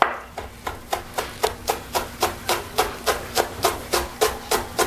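Knife rough-chopping vegetables for a marinade on a cutting board, a steady run of about twenty sharp, evenly spaced chops, close and clear over a low background hum.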